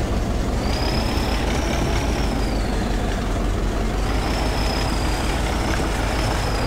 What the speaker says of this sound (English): It sounds kind of funny because it's supposed to be a turbo diesel.